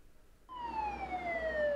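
An ambulance siren starts abruptly and wails steadily with a slowly falling pitch, fairly faint and distant over low background rumble.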